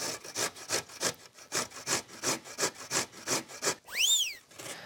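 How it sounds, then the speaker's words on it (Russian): Beetroot grated on a coarse grater, a steady run of about a dozen rhythmic rasping strokes, close and fairly loud, with a brief whistle-like sweep near the end. "Натираю сейчас свеклу на крупной терке."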